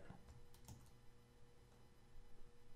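Keys pressed on a computer keyboard during 3D modeling in Cinema 4D, a few soft close clicks spread across a quiet room background with low hum.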